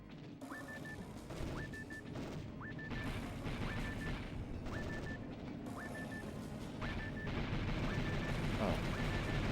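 Gunfire from enemies aimed at the player in a Sega Saturn game, a steady volley of shots and crashes under a repeating beeping tone, with a voice talking over it.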